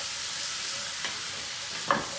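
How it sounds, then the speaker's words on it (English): Onions with kosher salt sizzle softly in a pot as they are mixed, a steady faint hiss with a couple of brief spoon scrapes near the end. "I'm gonna mix that up really well"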